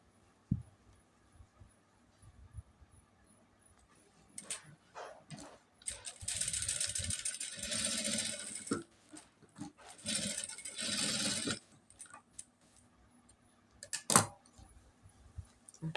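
A sewing machine stitches an elastic and fabric band, with two sustained bursts of fast mechanical whirring and clicking close by, separated and surrounded by quieter handling clatter and a few sharp knocks, and no talking.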